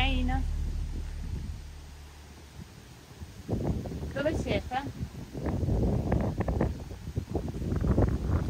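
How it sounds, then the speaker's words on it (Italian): Wind blowing through a cemetery, gusting rumble and microphone buffeting that swells and pulses, with people talking over it for much of the stretch. "Che vento, vero?"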